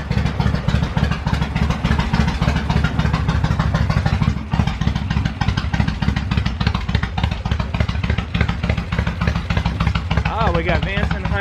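A motorcycle fitted with Vance and Hines pipes idles nearby with a loud, uneven, lumpy exhaust rumble, bought sight unseen with mechanical damage and newly started with the choke in; it throbs steadily throughout, with a brief dip near the middle.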